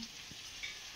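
Chicken kasha with potatoes, Bengali style, sizzling and frying in a pan, a steady close hiss for about a second with no talk.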